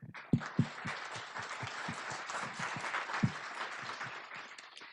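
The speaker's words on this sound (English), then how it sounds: "So I'd like to give them all a round of applause" Audience applause at an education summit, a fairly soft, steady patter of clapping with a few sharper claps standing out near the start, continuing evenly for several seconds with no talk over it.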